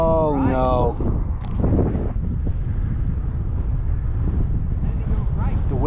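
Strong wind buffets the microphone on an open golf course, a steady low roar with gusts that holds throughout, while people talk briefly near the start.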